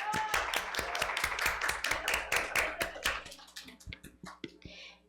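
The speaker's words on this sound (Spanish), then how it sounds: "para quien les pido un fuerte aplauso" A small audience gives Carla Mendoza a short round of applause, the distinct close claps thinning into scattered separate claps that fade out after a few seconds.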